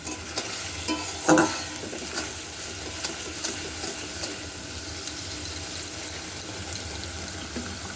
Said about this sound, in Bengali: পেঁয়াজ আর টমেটোকে ভালো মতো কষিয়ে নিতে হবে প্রথমে